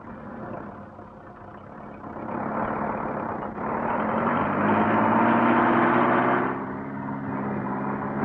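A vehicle engine runs steadily nearby, its low hum swelling slightly in the middle before settling back, with no talk over it.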